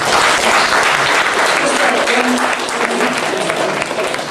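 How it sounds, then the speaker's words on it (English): Loud, full applause and crowd noise from a convention panel audience, sustained and close with a few cheers mixed in, steady throughout. "I'd like all of you to give these guys a huge round of applause"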